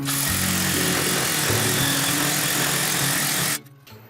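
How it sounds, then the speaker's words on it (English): A Milwaukee Sawzall reciprocating saw cuts through a 3-ply wooden framing header, a loud, steady buzzing drone close by that runs for about three and a half seconds before stopping abruptly. "I'm able to use my Sawzall, reciprocating saw for you people out there that are Milwaukee people"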